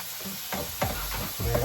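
Mustard seeds and tomato in a hot pan, with green chillies mentioned, splutter and sizzle under a bright hiss while a few sharp stirring scrapes and pops stand out close by.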